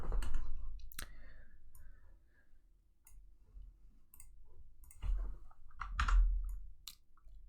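A computer mouse clicks sharply and sparsely at close range in a quiet room while a screenshot is taken, single clicks spaced irregularly, with one or two quick doubled clicks.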